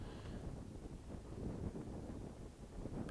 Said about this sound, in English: Probably a 20 to 25 mile an hour wind. And of course gusting higher than that at times.